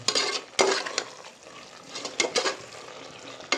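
A spoon stirs meal maker and chicken leg pieces through cooker biryani, with a few sharp scrapes against the pot over a soft ongoing sizzle. Close and fairly loud, with no talking.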